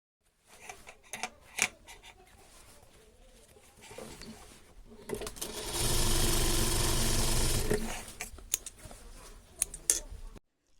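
A sewing machine top-stitches a sleeve lining closed, running in one loud, steady burst of about two seconds between softer handling clicks and rustles of fabric.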